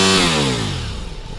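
Ducati Multistrada V4 S engine revving hard, a loud, close, high-pitched rising whine that climbs quickly through the revs, heard alone without talk.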